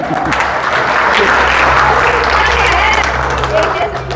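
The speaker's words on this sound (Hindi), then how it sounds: "एक बार जोरदार ताली।" Loud, dense applause rings out from police staff gathered for a review meeting at R Mall (Ghodbandar) police station in Maharashtra, a steady close-up wash of clapping from start to finish.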